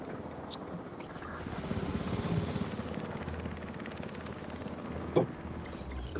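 A helicopter in the video game Jurassic World Evolution 3 gives off a steady, moderate rotor and engine drone with a little wind-like rush. Toward the end there is a brief sharper knock.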